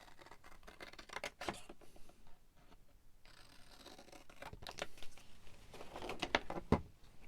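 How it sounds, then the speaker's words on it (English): Scissors snipping through the top of a paper craft tag, a series of quiet crisp cuts in uneven bursts, close and alone with faint handling rustle between them. "I'm going to cut the top of that off."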